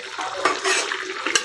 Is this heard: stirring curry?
yes